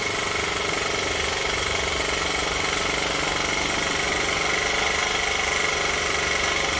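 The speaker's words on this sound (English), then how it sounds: "Another bike with CDI ignition. Boy, it does run good though, doesn't it?" A Honda Z50 motorbike fitted with a CDI ignition conversion runs steadily close by, its small engine giving a loud, rapid, even mechanical chatter throughout with no voices.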